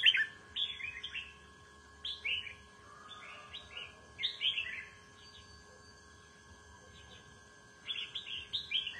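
Caged pet birds outdoors in rural Vietnam give bright, high chirps and short song phrases in bursts, moderately close against a faint background hum, with long quiet gaps and no talking.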